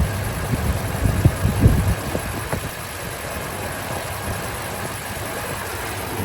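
A 2013 Toyota Tundra CrewMax Limited 4x4 with a 5.7-litre V8 idles steadily in a low, even rumble, with a few louder throbs early on before it settles into a constant hum.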